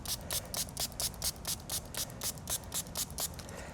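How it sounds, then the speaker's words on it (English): A spray can of adhesive tack sprays in short rhythmic bursts, about a dozen quick hissing puffs in steady succession, close and fairly quiet. "I'm just gonna spray a bunch of tack."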